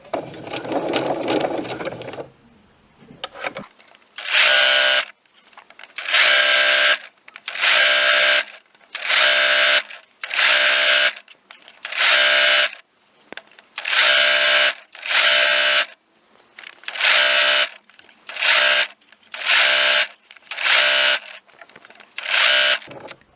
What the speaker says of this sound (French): je vais piquer tout le long de mon encolure